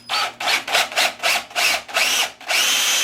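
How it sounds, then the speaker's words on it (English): A power drill bores a hole into a willow bowl blank on a woodturning project, a close, loud whining grind pulsing in about eight short bursts as the bit bites and eases off. "So I'm going to drill my hole."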